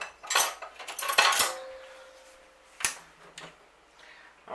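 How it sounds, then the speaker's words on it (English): Big spoons of brown sugar being spooned into a bowl while making apple custard and walnut muffins, with a few sharp spoon clinks against the dish followed by softer scraping and quieter taps. "put it in a bowl with 2 tablespoons-ish, 2 big spoons of brown sugar"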